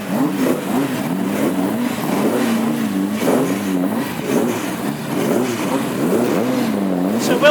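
A classic hot rod's engine fires up at a race meeting in Tipperary and revs repeatedly, loud and close, with rising and falling pitch in rhythmic surges.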